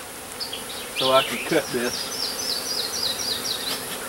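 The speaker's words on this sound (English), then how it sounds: "I'm going to smoke these bees and move them out of the way." Honey bees buzz close around an opened hive at a camp house, a steady whining drone with shifting pitches as individual bees pass near, while a person speaks briefly over it.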